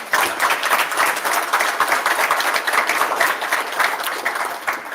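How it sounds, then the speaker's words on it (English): An audience applauds at a Georgia bill-signing event, a dense, even round of clapping that holds steady for several seconds without voices. "Appreciate you starting that round of applause, Representative Gilliard"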